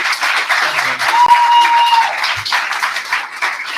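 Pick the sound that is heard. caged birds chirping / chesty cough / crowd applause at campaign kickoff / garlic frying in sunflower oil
crowd applause at campaign kickoff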